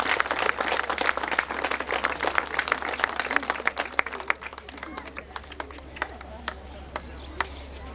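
A village crowd applauds to welcome a fallen hero's brother, dense clapping at first that thins into scattered claps, with voices in the background.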